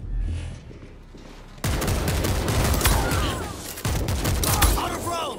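Gunfire in the World War Z video game on Xbox One comes as dense, rapid volleys of shots with sharp bursts stacking over one another, loud and close.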